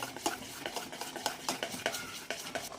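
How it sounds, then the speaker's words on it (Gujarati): Khaman batter is stirred briskly in one direction with a spoon in a bowl, giving a quick, regular run of close wet scrapes and soft clinks. "હવે બધું સરસ મિક્સ કરી લઈશું એક જ ડાયરેક્શનમાં મિક્સ કરી લેવાનું"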